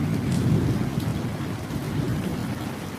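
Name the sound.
rain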